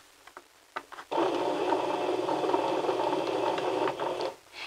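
A sewing machine driven by a foot pedal starts after a few soft clicks and runs at a steady whirring, rhythmic pace for about three seconds before slowing to a stop, close and clear with no talking.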